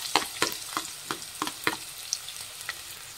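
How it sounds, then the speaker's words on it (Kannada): Finely chopped onions and curry leaves in hot oil in a kadai, a soft sizzle under a string of sharp spatula scrapes and taps, fairly close. "ಸಣ್ಣದಾಗಿ ಹಚ್ಚಿರೋಂಥ ಈರುಳ್ಳಿ ಹಾಕ್ತಾ ಇದ್ದೀನಿ"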